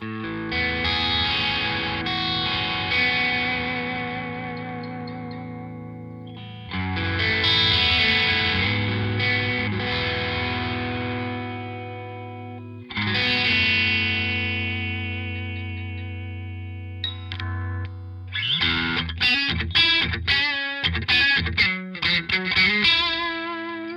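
Overdriven electric guitar through a Marshall overdrive pedal, pickup in split-coil mode, playing sustained chords in three long strummed phrases, then choppier, rhythmic muted strumming toward the end; gritty, compressed tone with no voices.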